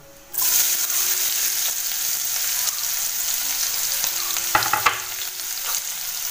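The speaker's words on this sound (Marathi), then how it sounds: "सगळ्यात आधी मी टाकते हिंग, नंतरला कांदा, लसूण आणि जिरं टाकायचं" Asafoetida, onion, garlic and cumin fry in hot oil, a sudden loud sizzle bursting in and holding steady, broken near the end by a few clattering stirs of the pan.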